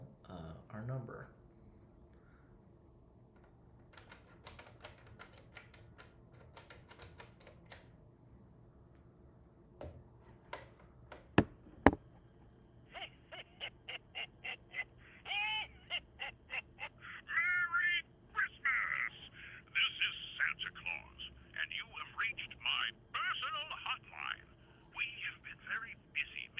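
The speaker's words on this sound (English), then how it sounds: "I'm going to start by selecting line 1, go off hook, and now I'm going to dial our number." A vintage business telephone system built in a dorm: a line is selected and taken off hook, then a number is dialled, giving clicks followed by a steady series of short, close, moderately loud tone beeps.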